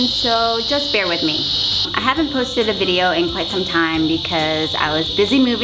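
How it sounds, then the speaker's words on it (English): A steady high-pitched insect buzz drones continuously in the background while a person speaks over it close by. "the cicadas just wanted to say hi"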